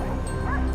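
Hunting dogs during a wild boar chase give a quick yelping bark, brief and fairly loud against a steady rumbling background.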